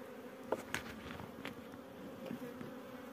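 Honey bees buzz steadily around an open hive in early spring, a close, continuous drone with individual bees zipping past the listener now and then.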